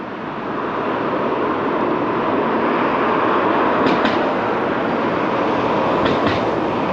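A train runs on the railway line into Middlesbrough with a steady, broad rumble of wheels on track throughout. A couple of faint clicks are heard partway through.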